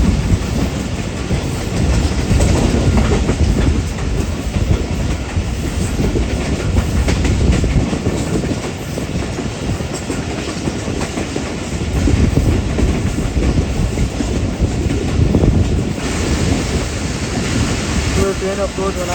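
The Rehman Baba Express slows on its approach to Sarhari station over wooden sleepers, with a loud, continuous rumble and rhythmic clatter of wheels throughout and a roaring wash of noise close by.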